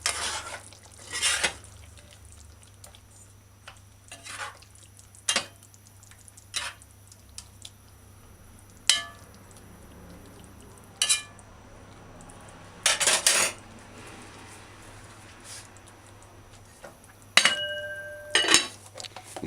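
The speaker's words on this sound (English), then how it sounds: "You can hold the pot sometime and just stir it in and cream it, help it cream it" Metal spoon stirring coconut cream in a pot for sweet potato rundung, with scattered clinks and scrapes coming in irregular bursts against a quiet, steady background hum.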